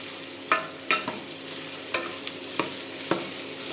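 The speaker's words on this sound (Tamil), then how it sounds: "இப்போ கொஞ்சமாக கடலெண்ணெய் ஊற்றி காய்க்கு ஃப்ரை கொடுக்க போகிறோம்" Bitter gourd stir-fried in groundnut oil, with a steady sizzle broken by sharp spatula scrapes and clacks against the pan at irregular intervals, close and fairly quiet.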